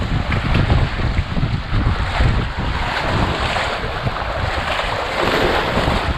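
A longtail boat crosses choppy sea near coral reefs off a Thai island, with loud constant wind buffeting and waves slapping the hull in an unbroken roar.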